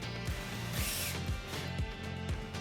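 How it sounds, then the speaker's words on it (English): Pilot holes drilled and screws driven into wooden planks for a hanging cup rack, heard as a close, steady power-drill whir with repeated short bursts and clicks as each screw is set. "drill a pilot hole and fasten it with my 30 mil screws"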